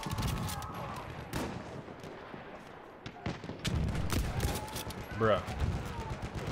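Battlefield 1 multiplayer gunfire crackles in repeated bursts and scattered shots, with distant blasts, beneath someone talking casually over the action.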